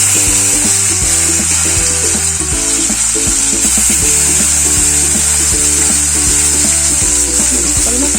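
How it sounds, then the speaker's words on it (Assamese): Small shol (snakehead) fish deep frying in hot oil in a wok give a steady, hissing sizzle that runs throughout beneath rhythmic background music. "কেৰাহী গৰম হৈ গ'ল, কিছু মই মাছখিনি ফ্ৰাই কৰি ল'ম"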